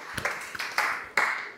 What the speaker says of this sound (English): So round of applause to Jackie